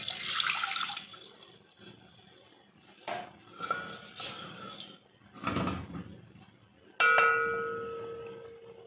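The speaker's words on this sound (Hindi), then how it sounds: "अब ये जो 1 गिलास पानी का है ये इसमें डाल देना है।" Water pours from a glass into a pan of melted sugar while making sweet vermicelli, with a splashy burst around the middle and clinks and kitchen clatter on either side, close and fairly quiet, with no talk.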